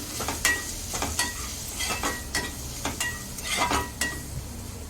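Maggi noodles with peas being mixed in a pan: a low sizzle under a run of close scraping and clinking spoon strokes against the metal, several distinct knocks spaced through the few seconds, with no voices.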